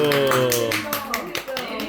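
Brief clapping from an audience at a book launch celebration for autobiography writers, heard together with speech and voices, short and fairly loud.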